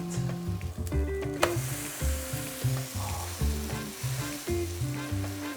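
Up close, a grilled cheese sandwich fries in a pan with a strong, continuous sizzle that sits under background music.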